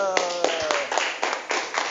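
A school class claps hands in a quick, uneven burst for a couple of seconds, with a voice speaking over the clapping.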